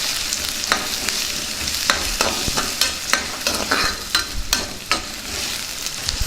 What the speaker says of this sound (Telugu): ముందుగా ఉల్లిపాయ ముక్కలు వేసుకుందాం అలాగే పచ్చిమిర్చి ముక్కలు కూడా వేసేద్దాం దీన్ని బాగా వేయించుకుందాం